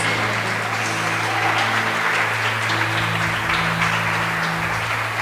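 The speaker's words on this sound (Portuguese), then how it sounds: "Você pode aplaudir e glorificar o Senhor em nome de Jesus" Sustained, dense applause from a large church congregation, steady and loud throughout with no pauses.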